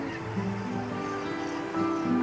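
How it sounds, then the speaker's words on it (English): Gannets calling in a dense, continuous clamour of honking seabird voices from a cliff-top colony, with sea surf washing steadily underneath; busy and fairly loud throughout. "I think he could hear the gannets and the sea."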